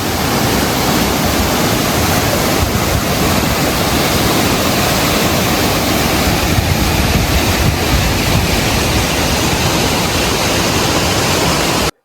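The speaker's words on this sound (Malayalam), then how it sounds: "ആ മെയിൻ വാട്ടർഫാൾസിൻ്റെ തൊട്ട് മേളിലുള്ള വെള്ളച്ചാട്ടമാണ്." Shenbaga Devi waterfall at Courtallam pours in a loud, unbroken roar of crashing water heard up close, dense and steady from start to finish with no voices.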